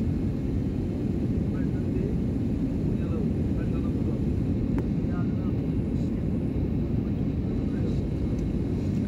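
Steady low roar of an airplane cabin during descent toward landing, a dense constant rumble that fills the whole stretch without change, with faint hiss above it and no clear voices.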